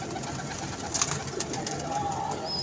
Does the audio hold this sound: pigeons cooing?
yes